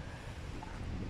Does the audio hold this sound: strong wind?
yes